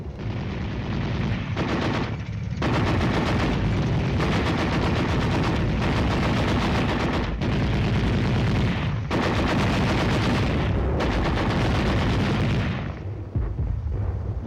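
Sustained enemy gunfire in a night tank battle, dense bursts of rapid shots and booming reports rolling almost continuously, loud and close, with brief gaps before trailing off at the end.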